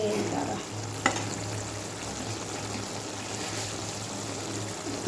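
Fish chorchori cooking in a pan, a low steady sizzle with a faint background hum and a single sharp clink near the start, no talking.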